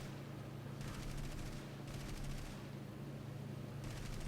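A 7.92 mm aircraft machine gun fires in War Thunder. Three rapid bursts are heard, each lasting about a second, quiet and distant under steady engine drone.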